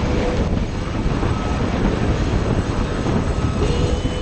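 Puma military helicopter of the 3e RHC arriving to pick up commandos on the ground at a Verdun air show, heard as a loud, steady, dense rotor and turbine roar filling the whole stretch without pause.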